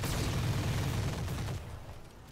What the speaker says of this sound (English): Maybe we get lucky with the machine guns.